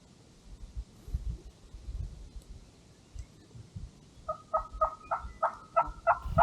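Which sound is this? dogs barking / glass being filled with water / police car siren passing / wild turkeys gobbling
wild turkeys gobbling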